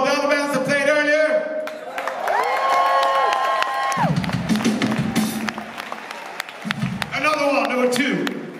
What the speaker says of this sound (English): Everybody give you a big round of applause for the other bands that played earlier.